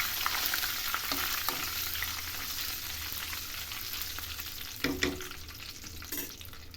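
Ingredients for a koramenu fish pickle fry in a hot pan with a steady, close sizzle. Occasional stirring clatters and scrapes break through, and no one speaks.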